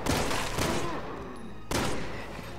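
Gunfire in Resident Evil 6, with loud bursts of rapid shots, a pause, and then another volley, each burst fading into a ringing tail.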